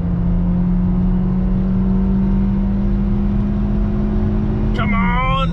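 A loud, steady engine drone holds a constant pitch under road noise, then rises sharply in a climbing whine near the end as the vehicle accelerates hard.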